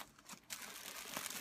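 Plastic bags holding a yarn haul crinkle and rustle in a steady, close handling sound, faint at first and then busier and louder for about a second.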